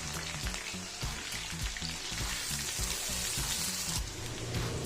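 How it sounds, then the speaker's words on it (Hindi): Two medium-sized onions browning in hot oil over a medium-high flame, a steady dense sizzle and crackle of frying running continuously and fairly loud with no talking. "इसी ऑयल में हमने 2 मीडियम साइज़ के प्याज हैं उनको ब्राउन करना है"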